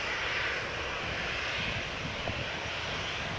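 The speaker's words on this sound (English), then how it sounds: "here is another 737-700. This one is from KLM and flying for KLM." Jet engines of a KLM Boeing 737-700 at Amsterdam Schiphol roar as a steady, broad, moderately loud rumble and hiss, unbroken throughout with no voices.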